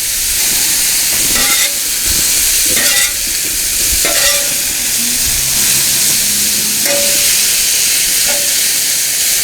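Loud, steady sizzling of breakfast taco fillings frying in a pan on a Blackstone griddle, with occasional scraping and clinking of a utensil, close up and without speech.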